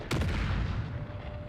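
A cannon fires in the Empire Total War strategy game, a single sharp boom near the start that leaves a low, rumbling roar of battlefield noise behind it.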